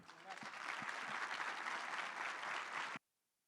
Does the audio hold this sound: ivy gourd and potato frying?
no